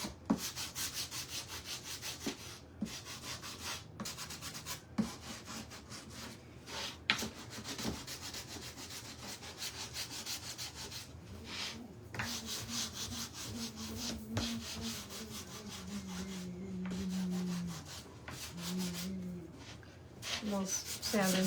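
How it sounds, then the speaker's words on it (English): Sandpaper rubs over a Santa mold candleholder shelf decor piece to bring back wood color along an edge, a steady close scratchy scrubbing that runs on and on, with faint talking mixed in. "We'll sand in here a little bit too."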